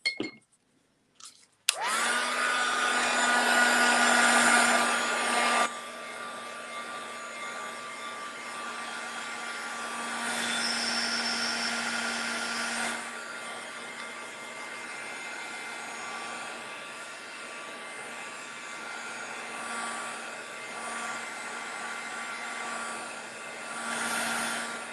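A hair dryer blows steadily over a fresh coat of paint, a loud continuous whirring hiss with a constant motor hum that eases slightly after a few seconds and runs on unbroken, no talking.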